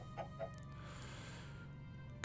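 Chickens in the video game Minecraft give a couple of short, soft clucks near the start over a faint background hum, with no talking.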